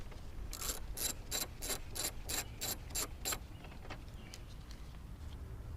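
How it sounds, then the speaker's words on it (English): A ratchet fitted with an E18 socket loosening a BMW F30 328i xDrive strut tower brace bolt: about ten quick, evenly spaced metallic clicks close to the mic, followed by quieter handling sounds. "we just need to remove this last bolt on the strut tower brace, and for this we're going to use an E18 socket"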